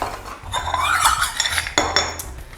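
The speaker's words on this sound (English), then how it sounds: "you just want to whisk that up so it's fully combined" A whisk stirs dry plant-based doughnut ingredients in a bowl, making rapid scraping and clinking against the sides that builds and pulses close by, with a sharp knock near the end.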